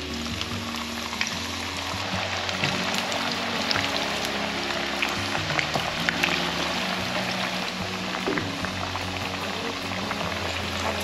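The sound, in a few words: taro pieces deep-frying in hot oil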